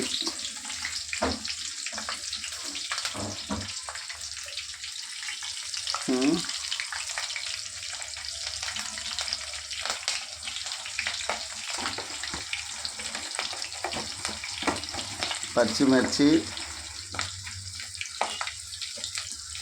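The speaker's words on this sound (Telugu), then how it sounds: "నూనె కాగిందండి. దీంట్లో తిరవాత గింజలు, అదేవిధంగా పచ్చిమిర్చి" Cumin seeds and green chillies sizzle and crackle in hot oil, a steady bright frying hiss with scattered pops and a few louder bursts of spattering, plus occasional stirring scrapes.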